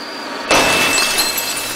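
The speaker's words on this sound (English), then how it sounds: "the whistling of the wind at the portal tree made the little statue shatter" A small crystal statue shatters in The Night of the Rabbit video game. A faint ringing tone is followed by a single loud, sharp glass break that trails off into a tinkling decay.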